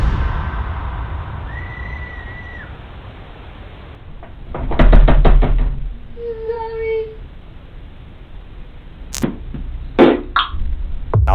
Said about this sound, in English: almost what sounded like the door rattling